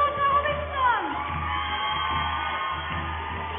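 An audience at a 2007 stage show cheers and shouts with sustained crowd noise and whoops, loud and close, while a voice rises over the start.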